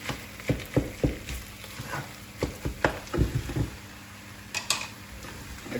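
A Spanish tortilla cooks in a frying pan: sharp clinks and scrapes of a utensil against the pan come in irregular bursts over a faint, steady sizzle, with no talking.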